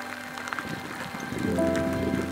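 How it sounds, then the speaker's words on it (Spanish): Steady rain falls along the Camino del Norte through the valley of Carreño, a dense, even hiss of drops on surfaces that grows slightly fuller toward the end, with no voices. "con pocos signos de que la lluvia nos vaya a dar una tregua"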